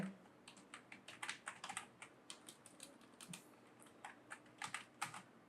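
Typing on a computer keyboard: quick, irregular clusters of light key clicks, close and clear in a quiet room, with no talking.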